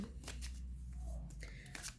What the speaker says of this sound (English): Just going to shuffle the Dragon Tarot